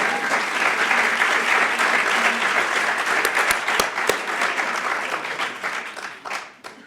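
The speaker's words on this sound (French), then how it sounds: "Oui, on peut l'applaudir." Audience applause for a law student candidate at a Geneva speaking contest, a dense steady wash of many clapping hands lasting several seconds and thinning out near the end.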